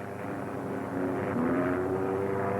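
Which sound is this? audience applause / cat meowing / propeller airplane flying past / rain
propeller airplane flying past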